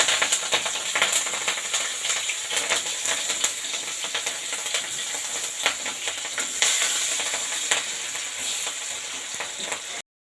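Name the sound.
onions and green chillies frying in oil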